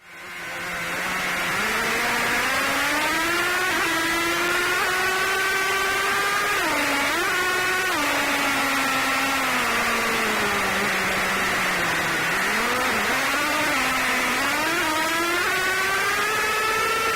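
A Redcat Caldera 2-speed nitro RC truck engine runs with a loud, continuous buzzing whine that rises and dips in pitch as the throttle changes.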